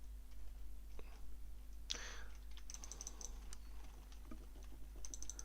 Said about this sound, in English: lots of manic tapping on the keyboard and mouse to get all the buffs up